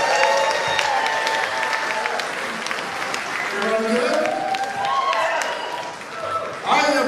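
Applause and cheering from the crowd at the 10th Lexington Music Awards 2024 ceremony, a sustained wash of clapping with voices and shouts mixed in, swelling again near the end.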